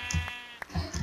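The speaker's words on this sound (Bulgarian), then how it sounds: "Тук има да намерим 3 овце." Sheep in the video game Minecraft bleating in short repeated calls, several quick nasal bleats over about a second, fairly quiet and close with no talk.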